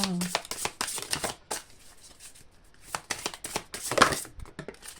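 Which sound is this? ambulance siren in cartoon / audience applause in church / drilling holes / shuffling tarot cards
shuffling tarot cards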